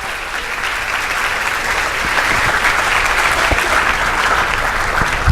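Audience at a leadership speaker event applauding, a dense, steady burst of clapping from a sizable room that holds at even loudness throughout.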